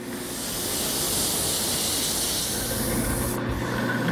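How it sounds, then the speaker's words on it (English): Steady abrasive rubbing of sandpaper worked by hand against a turned wooden piece, a continuous close scratchy hiss that runs unbroken with no talk over it. "now that takes care of the sanding"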